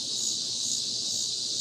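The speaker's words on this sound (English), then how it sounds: "Perhaps you can hear the cicadas." Cicadas drone in a continuous high, even buzz on an early-fall day outdoors, steady and moderately loud with no voices over it.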